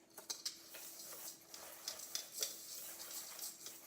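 Dry ingredients for keto breakfast buns are stirred together in a bowl, with soft scraping and light ticking clinks of a utensil against the bowl, quiet and steady with no talking.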